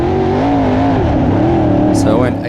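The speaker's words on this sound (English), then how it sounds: "you can hear that motor is just what we call like a light switch, so it just breaks free real quick" A race car engine revs hard as it breaks free of mud, loud and close, with a steady rising and falling motor drone and a brief high squeal near the end.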